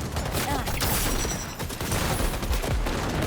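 Gunfire in Cyberpunk 2077, dense rapid bursts of shots and booms crowding together, with a voice talking over the firefight.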